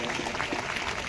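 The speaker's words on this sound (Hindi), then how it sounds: "आज अनिल भंडारी के लिए जरा जोरदार तालियां बजाकर स्वागत" An audience at a blind welfare association's foundation day and Louis Braille birth anniversary function claps in welcome, a brief burst of dense, fairly close applause that fills the hall evenly.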